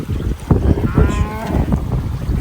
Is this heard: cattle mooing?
yes